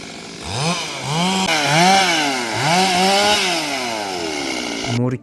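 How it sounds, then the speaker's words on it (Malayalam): A chainsaw cuts down trees to clear and level a plot for building a small house, its engine revving up and down in close, loud surges for several seconds before dropping to idle. "വളരെ ഫാസ്റ്റായിട്ടാണ് കേട്ടോ ഓരോ മരം ഓരോ മുറിച്ച് മുറിച്ചിടുന്നത്"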